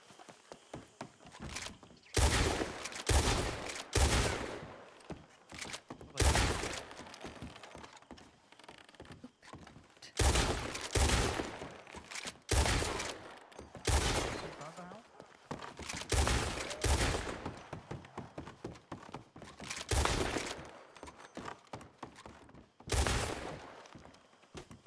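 Repeated rapid gunfire during a RedM shooting training drill, loud bursts of shots fired in quick clusters with short pauses between them, continuing through the whole stretch.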